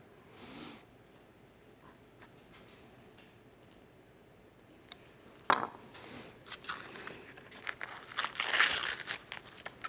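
Casing being peeled off homemade pepperoni made from ground pork gives quiet, crinkly tearing and rustling, with a brief sharp rip midway and a louder burst of crackling near the end.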